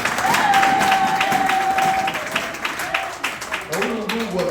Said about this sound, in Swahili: Naomba kanisa kupiga makofi mazuri kwa kila wewe.